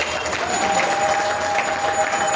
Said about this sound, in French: Vous pouvez applaudir Maître Miteo, s'il vous plaît.